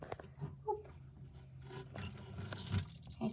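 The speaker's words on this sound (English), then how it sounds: "You can hear the crickets." Crickets chirp inside a reptile enclosure in quick, high-pitched repeated bursts that grow denser toward the end, faint against low rustling and handling noise.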